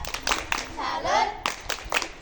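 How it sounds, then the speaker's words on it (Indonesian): A sixth-grade class performs a rhythmic clapping chant, sharp clustered claps in a patterned beat, with children's voices chanting and speaking between and over the claps. "Tepuk salut."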